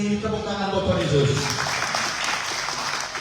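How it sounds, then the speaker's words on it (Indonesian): Church congregation applauding during a worship service, broadband clapping noise rising after the first second and sustained to the end, with singing or talk audible at the start. "Tepuk tangan Bapak Yesus"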